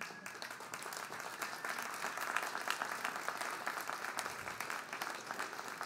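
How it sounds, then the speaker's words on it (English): Graduates at a community college commencement ceremony give vigorous applause, a distant, sustained patter of many hands clapping through a large hall, swelling slightly midway. "graduates, you stand and give them a vigorous applause"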